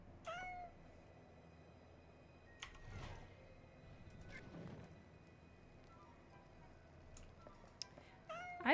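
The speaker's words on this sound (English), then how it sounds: "What do I do with this cat?" A cat in the video game Stress Cleaning meows a few times, short cries spread across the stretch, alongside faint clicks and scrapes from play.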